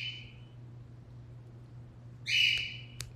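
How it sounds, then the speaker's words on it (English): Loud pet bird indoors letting out a short squawk, falling quiet, then a harsher, louder squawk with a sharp click, over the steady low hum of a running washer. "we have a bird that is very loud"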